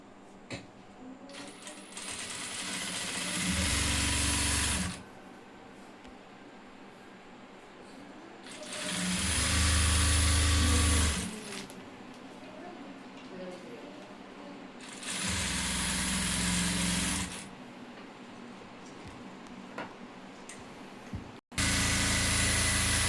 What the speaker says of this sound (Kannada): ಎಡ್ಜಲ್ಲೇ ಸ್ಟಿಚ್ ಹಾಕಬೇಕು